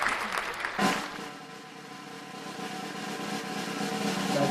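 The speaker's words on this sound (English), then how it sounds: "Let's get some applause going." Crowd applause fills a draft night live gathering: a steady, dense wash of clapping that carries on without a break, with a faint hint of voices underneath.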